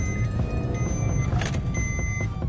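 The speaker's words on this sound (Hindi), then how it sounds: "फर्स्ट गियर में क्या पिकअप रहने वाला है तो ये देख लीजिए" A CNG-fitted car pulls away in first gear, its engine a steady low hum heard from inside the cabin, with faint rattles and clicks over the running drone.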